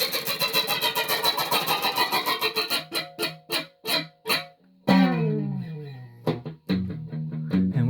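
A car engine cranks and turns over in quick repeated bursts, then catches and settles into a running, driving drone with shifting tones, used as a close, loud effect in a spoken audio story.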